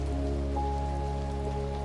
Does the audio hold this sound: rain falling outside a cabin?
yes